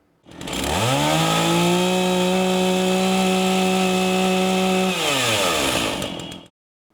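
A chainsaw of the kind used in farm and forestry work revs up, holds a loud, steady buzzing whine for several seconds, then drops away and cuts off, heard up close and alone.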